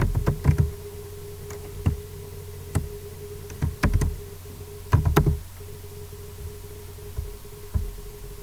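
Keys on a computer keyboard tapped in short irregular bursts at close range, typing a country name into a search field, with brief pauses between clusters of clicks and a steady hum underneath.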